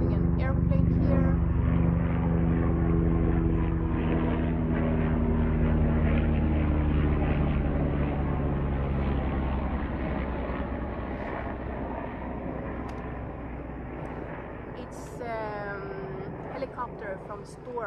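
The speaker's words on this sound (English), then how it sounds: "it's coming an airplane here" A propeller airplane passing overhead near Tromsø, a loud, droning engine roar with a steady hum that slowly fades, with people talking underneath and a brief sharp sound near the end.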